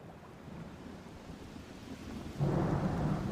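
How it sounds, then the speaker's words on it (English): A thunderstorm rolls over ocean waves: a low continuous rumble of thunder, rain and surf, fairly faint, swelling louder near the end with a deeper roll. "Then the water started to splash and splosh and pick up in strength. They could see that a storm was brewing above the waves."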